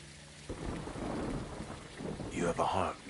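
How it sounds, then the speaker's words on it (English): Heavy rain and rolling thunder in the Call of Duty Modern Warfare 2 campaign, a dense steady downpour with deep rumbles swelling throughout, and a voice speaking briefly toward the end. "It's raining fucking hard."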